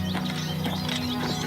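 A horse in the Oblivion Remastered video game, the chestnut horse, snorts and whinnies amid hoof sounds, loud and close over a steady low game hum.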